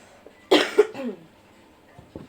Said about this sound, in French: J'arrête pas de tousser depuis tout à l'heure